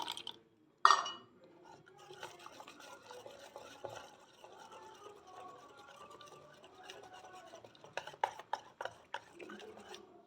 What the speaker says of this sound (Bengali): অল্প অল্প করে জল দিয়ে মেশাবো।